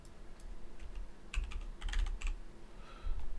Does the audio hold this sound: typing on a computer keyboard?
yes